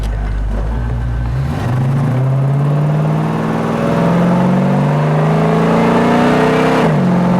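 A restomod 1968 Oldsmobile Cutlass convertible engine revs up and accelerates loudly and steadily toward 60 mph, its pitch climbing through a gear change, close by with no talking.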